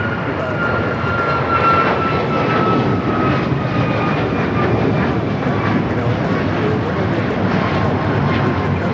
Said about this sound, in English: This is United Airlines 1621 taking off to Orlando, Florida on the MAX 9